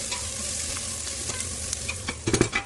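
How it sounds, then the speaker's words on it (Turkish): Steady crackling sizzle of onions frying in a pan, with a few louder stirring scrapes near the end; no talking. "soğanlar yanıyor"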